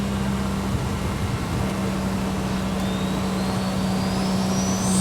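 A GT-R-engined Datsun 240Z hums steadily nearby on a track, with a thin whine rising in pitch as it speeds along.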